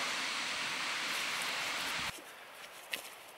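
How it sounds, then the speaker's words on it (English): A continuous, loud rush of falling water from a waterfall on the Boesmanskloof hiking trail fills the first two seconds, then cuts to quieter ambient noise with a faint knock. "Back at the waterfall."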